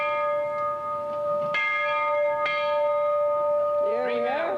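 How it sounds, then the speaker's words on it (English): A bell salvaged from an old Newfoundland Railway steam engine rings out clearly, struck at least twice with long ringing decay. A voice starts speaking near the end. "I'm going to end the conversation with the sounding of the bell."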